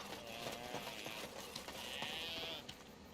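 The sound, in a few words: voice imitating sheep bleating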